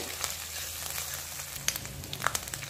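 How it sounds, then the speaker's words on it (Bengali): Ginger and green chilli frying in a pan for a vegetarian mini Mughlai, a steady soft sizzle throughout with a few faint spatters and light clicks, no voices. "আদা আর কাঁচা লঙ্কাটাকে একটু ভেজে নেব"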